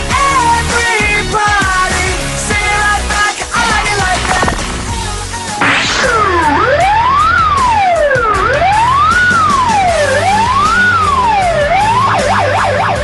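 An ambulance-style siren on a Moscow taxi rises and falls in a loud, clear wail across the second half, following a stretch of busier street and music-like sound.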